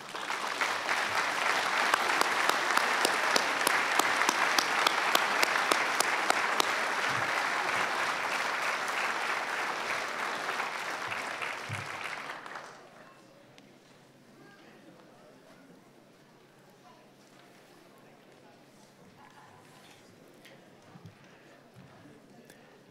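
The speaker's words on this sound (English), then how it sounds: "Let's have a final applause for the class of 2016." Graduation commencement audience giving a final round of applause for the graduating class, loud sustained clapping for about twelve seconds before it stops abruptly, leaving quiet room tone.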